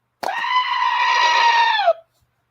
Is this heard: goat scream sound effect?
yes